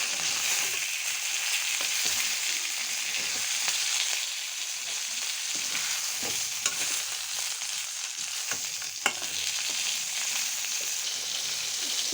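Chicken pieces for a chicken roast frying in hot oil, a steady dense sizzle holding level throughout with occasional small pops and crackles, close and moderately loud with no talking.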